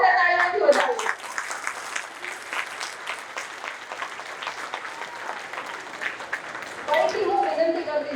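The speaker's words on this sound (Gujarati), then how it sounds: "તો એક વાર તેને જોરદાર તાળીઓથી વધાવો." An audience breaks into sustained, steady applause that carries on for several seconds, with a voice heard at the start and again near the end.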